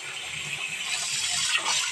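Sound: water filling a pot for steaming dhokla

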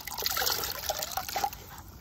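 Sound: sponge being rinsed in a bucket of water

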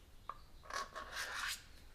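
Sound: back of X-Acto knife blade scraping a nose cone seam

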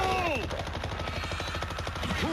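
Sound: machine gun fire in World War Z video game

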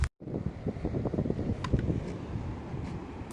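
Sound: light wind at sea

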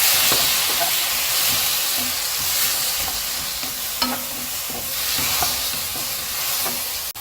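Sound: stir-frying radish with a little water in a pot

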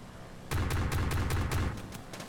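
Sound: gunfire strafing plane debris, Kerbal Space Program video game

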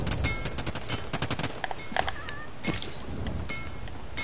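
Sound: gunfire in Realm Royale video game

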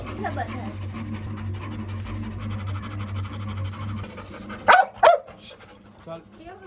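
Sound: puppy panting and whimpering

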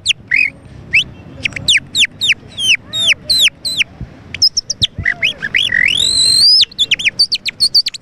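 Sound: man whistling, imitating a songbird

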